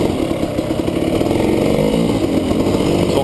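A GasGas EC300 dirt bike fitted with an autoclutch, throttle twisted to pull away, a loud close two-stroke engine droning steadily and rising slightly as it moves off.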